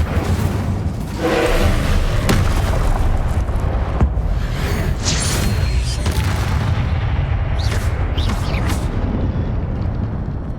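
Fire and blast spells go off in Hogwarts Legacy, a dense wash of booming, crackling bursts that keeps going for several seconds with a few sharper hits on top.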